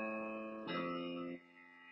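A quiet bass line for a C–A–F–G (I–vi–IV–V) chord progression plays a few sustained low notes in a row, each one shifting pitch, heard alone and faint.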